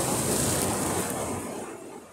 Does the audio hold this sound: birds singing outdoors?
no